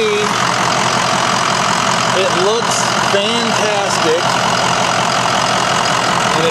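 A 2004 Ford E450 engine idles steadily and loudly for the whole stretch, a continuous broadband rumble with a person talking over it midway.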